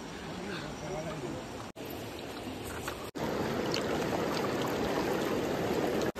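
Swollen river water rushing steadily and close by during a countryside fishing trip, a dense continuous wash that carries on without a break for the whole stretch.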